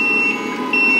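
Reversing warning beep from a customized LESU 8x8 Benz RC truck with a hydraulic metal trailer, a steady high electronic tone with slight pulsing, heard close over a constant motor whir.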